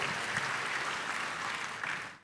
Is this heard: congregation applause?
yes